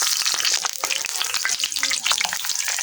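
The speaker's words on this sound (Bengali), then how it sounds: "গরম তেলের মধ্যে দিয়ে দিলাম। এবার চুলার আঁচটা লোতে রেখে ভেজে নিতে হবে।" Paratha frying in hot oil on an iron griddle over low heat, giving a dense, continuous crackling sizzle with rapid pops throughout, close and steady, and no one speaking.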